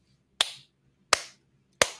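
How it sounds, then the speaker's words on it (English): Three sharp, isolated hand claps ring out at slow, roughly even intervals, each a crisp broadband crack with a short decaying tail, close and fairly loud against a quiet background with no talking. "I don't know how many times I'm going to clap in this video."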